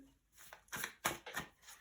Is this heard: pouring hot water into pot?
no